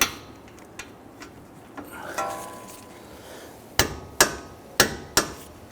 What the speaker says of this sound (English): torque down our bolts here to 76 foot-pounds